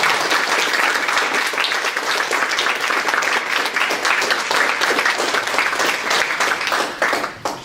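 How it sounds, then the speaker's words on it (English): Audience applause following a lecture, a dense, even wash of many hands clapping at steady loudness before tapering off at the very end. "Another round of applause for"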